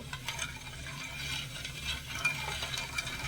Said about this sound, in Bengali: এবারে ভালো করে নেড়ে ছেড়ে চিনিটা গলিয়ে নেব